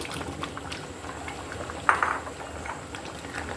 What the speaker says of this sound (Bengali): এবার আমি মূলাগুলো দিয়ে দিচ্ছি